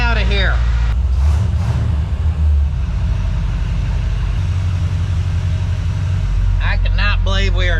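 A 1930 Ford Model A being driven, its engine running as a steady, loud low rumble that carries through the whole stretch, with people talking over it at the start and end.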